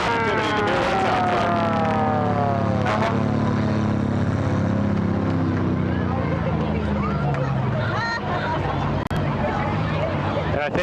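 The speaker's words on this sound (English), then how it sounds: "They always love to see a fire engine going by, especially when they turn on the sirens" A fire engine siren sounds during an International Day parade, loud rising and falling wails sweeping over a low engine rumble, with crowd voices underneath.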